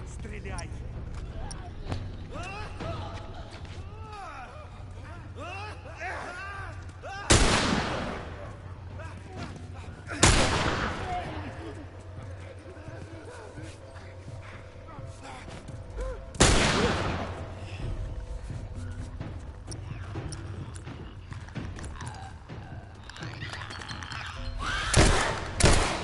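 Gunshots in The Last of Us Remastered, several sharp, loud single blasts spaced a few seconds apart, cracking over ongoing voices and ambient game noise.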